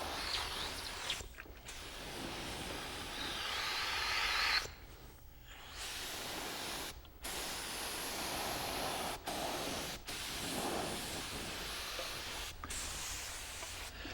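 Paint sprays onto a fitted latex zombie mask in steady hissing bursts, separated by short pauses, close and fairly quiet with no voices.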